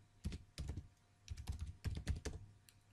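Quick clusters of keystrokes on a computer keyboard, close and crisp, in a few short bursts separated by brief pauses, with no one talking.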